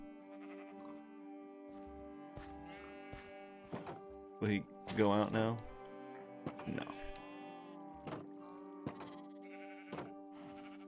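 Blocky Minecraft sheep bleat a few times in a short wavering burst near the middle, set over steady game music and interrupted by someone talking on and off throughout.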